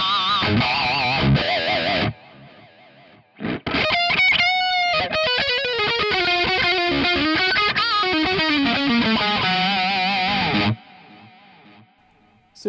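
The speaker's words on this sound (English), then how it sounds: "let's go ahead and put some delay on and some reverb and just hear that" High-gain electric guitar played through a Quad Cortex with a Highland Direwolf neural capture, drenched in delay and reverb; loud distorted chords and sustained melodic lines ring out, with a short pause near the start and echoing tails fading at the end.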